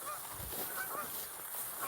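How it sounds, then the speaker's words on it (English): A pair of resident farm geese honk a few times at a distance, faint nasal calls over low background hiss. "our two resident geese"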